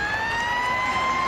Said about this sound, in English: Half-time siren sounds, last play of the half.